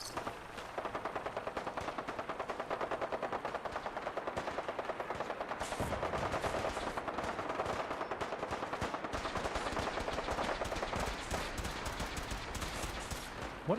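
Rapid automatic gunfire from the post-apocalyptic video game Fallout 4, a dense, sustained stream of shots that keeps up almost continuously for the length of the clip, loud and close with no talking.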